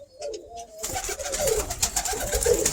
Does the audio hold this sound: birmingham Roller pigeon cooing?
yes